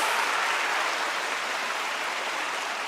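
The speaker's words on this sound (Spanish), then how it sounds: "Fuertes aplausos a Él" A church congregation bursts into loud, sustained applause during a sermon, a thick, even wash of many hands clapping at once, with no voices rising above it.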